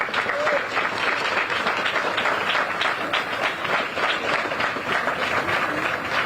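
Sustained applause and clapping from an audience at an outdoor groundbreaking ceremony for The Embrace, steady and dense throughout with voices mixed in.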